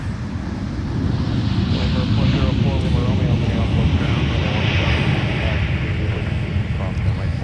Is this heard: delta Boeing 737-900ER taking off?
yes